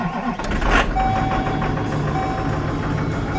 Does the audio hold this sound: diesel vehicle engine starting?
yes